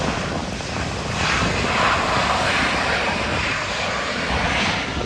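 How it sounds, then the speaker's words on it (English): A SkyWest airliner roars steadily through its final approach and touchdown at an airport. The broad engine rush swells slightly and then holds, heard alone at a moderate distance. "Here comes an aircraft. Final approach and touchdown."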